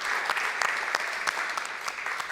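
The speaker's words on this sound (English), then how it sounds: "Let's give a round of applause to everyone." A church congregation claps together at a Sunday service, a steady wash of many hands applauding close and continuous for a couple of seconds.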